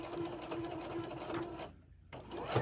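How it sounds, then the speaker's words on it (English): Sewing machine stitching a fabric seam for a tote bag, a fast steady mechanical whir and needle chatter up close that pauses briefly before starting again. "I'm going to go ahead and start sewing."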